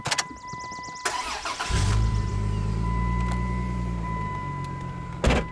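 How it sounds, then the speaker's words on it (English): The V6 of a 1999 Plymouth Prowler cranks briefly, then catches and settles into a steady, close idle, with a faint electronic tone and clicks around it. "Got a great sounding V6."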